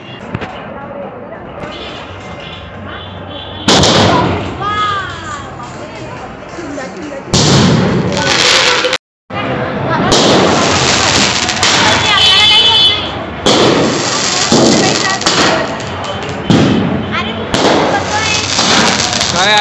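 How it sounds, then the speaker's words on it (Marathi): Firecrackers bursting outdoors in Jalgaon during the Ram temple consecration celebrations, a dense run of loud crackling pops and bangs that come and go in bursts over nearly twenty seconds, with crowd noise and voices mixed in. "केलंय फटाके फोडणं चाललंय"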